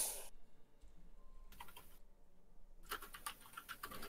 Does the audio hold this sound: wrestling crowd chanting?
no